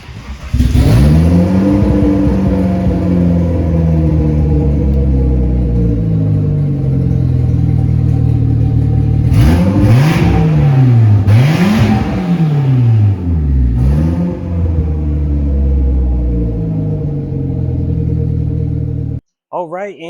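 A Eagle Talon, its intercooler and piping just refitted, runs at a steady, loud idle, then gets three or four quick throttle blips that rise and fall in pitch before settling back to idle.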